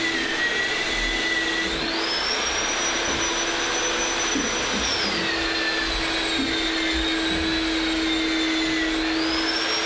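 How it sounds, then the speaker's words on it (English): Two vacuum cleaners run together on temporary power at a drywall job site, a loud, close, continuous roar with whining tones that dip and rise as the motors strain. "Trying to run 2 vacuums off of the temporary power"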